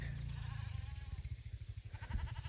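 A flock of sheep trailing a mob of cattle through drought-stricken pasture, with a low, steady drone of bleats and animal noise that rises into clearer overlapping calls near the end.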